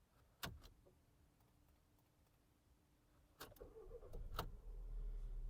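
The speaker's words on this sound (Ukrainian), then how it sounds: "Давайте запустимо двигун." A few soft clicks, then a Volkswagen Passat B7 engine cranks and catches, settling into a steady low idle rumble. Quiet and close, with no voices.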